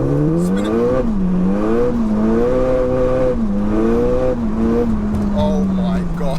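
A 607bhp Seat Leon Cupra spinning its wheels in third gear, the engine droning loud and close as it revs rise and dip in waves, with tyre noise and a voice talking over it.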